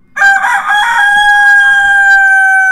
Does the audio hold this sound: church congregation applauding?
no